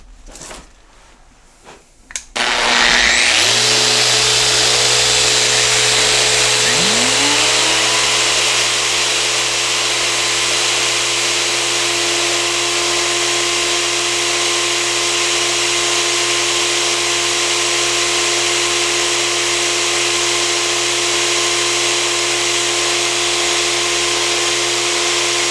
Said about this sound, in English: Now what happens if we plug in the 15 amp plunge router and the sander at the same time?